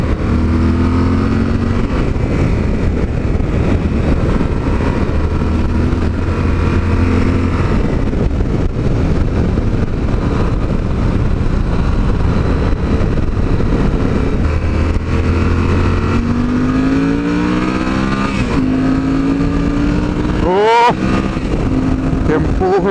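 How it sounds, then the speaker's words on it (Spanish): A Yamaha Super Ténéré motorcycle engine revs and pulls hard uphill in sport mode, its pitch climbing through gears over a steady loud drone, with a voice talking over it. "Vamos a subir en modo sport a ver qué tal se comporta esta moto subiendo"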